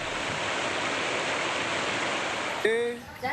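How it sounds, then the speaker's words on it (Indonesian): Floodwater rushes through a breached embankment of the Lamong River in Gresik, East Java, a steady loud broadband roar that continues throughout, with a brief sharper sound near the end. "Banjir terjadi akibat jebolnya tanggul Sungai Lamong."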